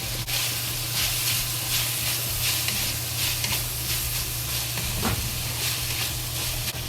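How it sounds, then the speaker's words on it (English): Pork sizzles slowly in a pan with salt and black pepper for a mu xu rou stir-fry, a steady, dense hiss that continues unbroken and close throughout. "Just slowly fry."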